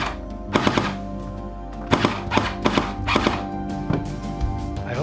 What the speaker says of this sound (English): Go ahead and give it a few test shots.